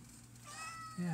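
A kitty meows once or twice indoors, a rising tonal call near the end, over a steady low hum and background talk.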